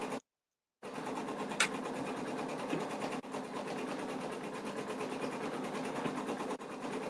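A 4x4 embroidery machine steadily sews a placement stitch for a flower appliqué on an in-the-hoop mug rug, a continuous close mechanical whirring hum after a brief silent gap near the start.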